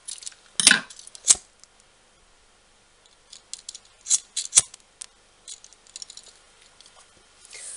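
Scissors snip macrame cord for a knotted friendship bracelet, a few sharp close clicks and cuts spread out with quiet gaps, alone.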